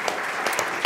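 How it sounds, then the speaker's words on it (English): Brief applause from an audience at an investor pitching event, a steady patter of clapping with a few louder claps, lasting about a second. "Give them a spattering of applause."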